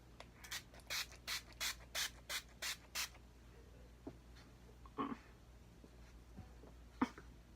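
Rose-scented setting spray misted in a quick series of about eight short, even spritzes, fairly close and crisp, followed by a few faint handling clicks.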